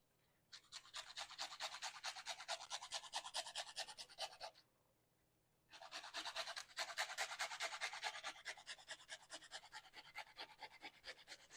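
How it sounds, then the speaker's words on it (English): A lemon is zested on a grater, giving rapid, even scraping strokes that run steadily for about four seconds, stop briefly, then start again and continue to the end. The strokes sound close and fairly quiet. "at the very end, I am going to do some lemon zest."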